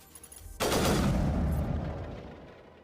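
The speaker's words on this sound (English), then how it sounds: "Wait, was that my sniper rifle?" A burst-fire sniper rifle in Mass Effect goes off with a sudden loud blast that rolls into a rumbling, slowly fading echo, heard alone.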